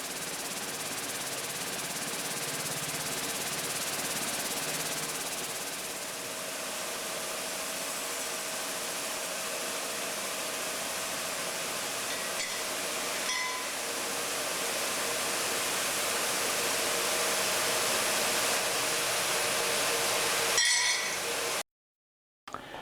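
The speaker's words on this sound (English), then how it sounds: "we take the stirrups and they go into this machine over here" A machine applying a semi-gloss finish to stirrups at a ranch workshop gives a steady broadband hiss, like a spray or blower, with a faint clink in the middle before it cuts off near the end.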